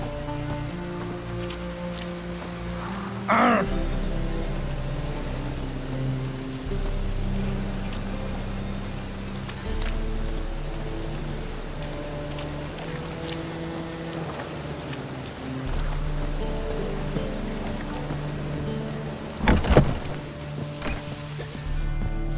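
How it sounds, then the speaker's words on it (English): Steady, dense rainfall in the video game The Witcher 3, in the city of Novigrad, a continuous hiss of drops with a few louder spattering bursts, heard alone without voices. "Looks like rain."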